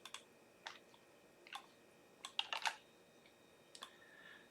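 Sparse keyboard taps in small clusters, a few quick keystrokes with pauses between, fairly quiet against a faint background hiss.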